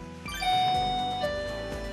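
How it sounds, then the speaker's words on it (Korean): A doorbell chimes indoors, a bright ding-dong of ringing tones that sustain and fade over a couple of seconds, loud and clear with no talking. "초인종 소리에 역시나 반응하는 녀석들."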